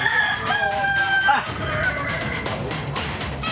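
Seized fighting cocks from an illegal cockfighting site in Kampung Panduru crow in long, strained calls, one after another, loud and close, with clucking and other background noise between them.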